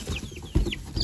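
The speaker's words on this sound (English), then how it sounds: "Yeah, it's just your chickens, you dummies." Chickens cluck in short, close bursts with a few higher chirps from chicks, set outdoors at a coop as the birds are let out.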